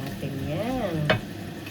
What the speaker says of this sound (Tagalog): halo-haloin natin yan.